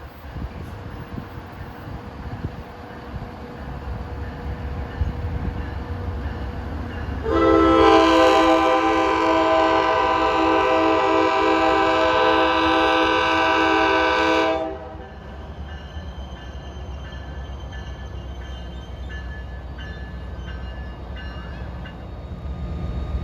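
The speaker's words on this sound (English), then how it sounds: "In the background, on occasion, you can sometimes hear horns of New Jersey Transit trains going up and down the Pascack Valley line" A New Jersey Transit train on the Pascack Valley line sounds one long, sustained horn blast of about seven seconds over a steady background rumble of rail traffic, then the rumble carries on alone.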